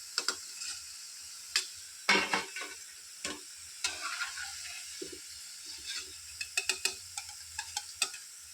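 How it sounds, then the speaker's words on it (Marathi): Rodga dough rounds fry quietly in a pan of oil: a soft, constant sizzle broken by scattered ticks and scraping bursts, some in quick clusters toward the end. "अशा प्रकारे मी बाकीचे रोडगे तळून घेते"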